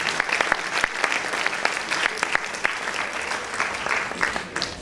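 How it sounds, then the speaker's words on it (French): Applause from an audience at the Miss Lorraine 2011 pageant, saluting the team of photographers: a steady hall-wide patter of clapping with sharper individual claps poking out, sustained throughout at moderate level. "Je vous propose de les applaudir là aussi très très fort."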